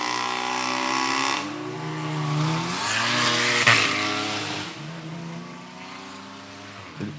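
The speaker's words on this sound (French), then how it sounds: "Porsche 911 à gauche, Golf 7R dans le couloir de droite" Two race cars, a Porsche 911 Carrera and a Volkswagen Golf 7R, run side by side at a Run Trophy drag event, their engines droning loud and close with rising and falling revs and harmonic tones sweeping up as they accelerate.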